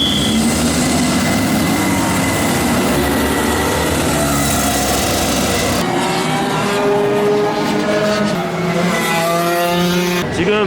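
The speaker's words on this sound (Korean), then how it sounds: "엔진 소리가 다른 차들에 비해서 좀 둔한 것 같아요" A racing kart running at the KIC circuit in Yeongam, its engine sounding dull with low revs and a slight misfire, drones steadily and loudly, with the pitch shifting as it passes and changes speed.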